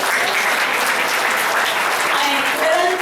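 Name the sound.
congregation applause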